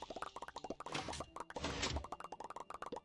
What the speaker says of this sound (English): What's that bubbling sound?